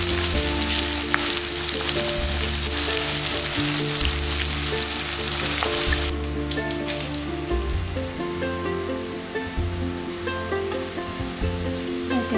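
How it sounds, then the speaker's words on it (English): Onions frying over a high flame in hot oil until crispy golden brown, a loud continuous crackling sizzle close by that drops somewhat in level partway through, with no talk. "I am going to fry the onions until golden brown, crispy golden brown."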